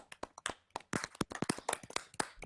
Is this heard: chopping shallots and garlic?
no